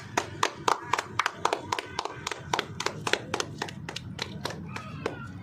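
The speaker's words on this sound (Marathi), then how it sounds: "तर आता आपण मॅडमांसाठी जोरदार टाळ्या वाजवणार आहोत" A small group claps in honour of a madam at a gathering: sharp, distinct hand claps in a loose, fairly quick rhythm, not fully in sync, with people talking faintly underneath.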